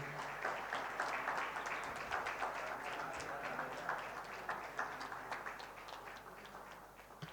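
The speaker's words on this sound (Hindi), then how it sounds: "जोरदार तालियों से" An audience applauds at a foundation day award ceremony, with dense, continuous clapping from many hands that stays steady and then slowly thins toward the end.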